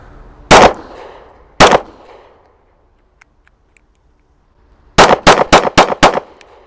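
A Remington R51 pistol fires two separated loud shots, then after a pause a rapid string of five or six more, sharp and close with echoing decay outdoors.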